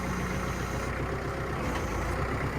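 A tractor engine idles in a steady, loud low rumble that runs unbroken throughout, set outdoors while downed trees are cleared for a burn pile.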